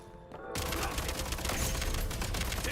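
Rapid automatic gunfire in the video game Genshin Impact, a dense burst of shots starting abruptly after a brief quiet moment and continuing loud and close throughout.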